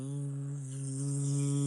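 A voice imitates bees buzzing past with a sustained, steady hum that swells slightly toward the end and stands alone without words.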